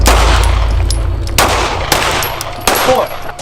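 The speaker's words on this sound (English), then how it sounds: "I want multiple rounds to target." Three or four spaced pistol shots crack loudly during a low-light combat shooting drill, close and sharp, each trailing a short echo over a low rumble.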